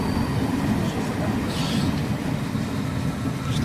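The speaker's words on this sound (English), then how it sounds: "Passing by the railway crossing, the train slows down." Train rolling slowly past a railway crossing in Tunisia, a steady low rumble of wheels and carriage noise that holds evenly throughout at close range, with faint higher squeals drifting in and out.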